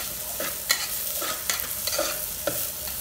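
Garlic, onion and ginger sauté in a hot pan, with sizzling and frying broken by repeated short scraping stirs, close and clear with no voices.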